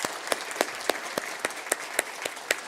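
A church congregation at a Sunday worship service claps in a steady, even rhythm of sharp, evenly spaced beats at moderate distance, with no voices over it.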